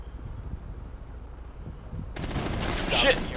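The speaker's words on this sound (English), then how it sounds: "Missed with a shotgun." Shotgun and automatic gunfire in Rainbow Six Siege, a quiet stretch of low rumble suddenly broken by a loud, dense burst of shots that stays intense to the end, with a faint voice in the background.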